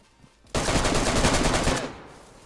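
Video game gunfire, a single loud, close burst of rapid automatic shots lasting about a second and a half, then trailing off into quiet.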